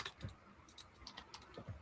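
Soft, close clicking of keys on a computer keyboard in short irregular bursts, quiet and alone.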